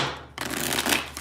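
A deck of tarot cards is riffled and shuffled by hand, close up, with a sudden start into a steady papery flutter and slapping. There is no talking during it.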